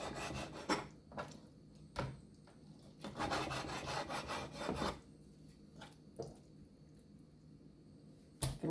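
Knife slicing flaps off raw chicken back on a cutting board, close rasping and rubbing strokes in short bursts with firm taps between them, quiet throughout.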